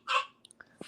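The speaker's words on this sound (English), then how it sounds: "That's a dog." A dog gives one short, sharp bark up close, followed by a few faint snuffling and clicking noises in an otherwise quiet room.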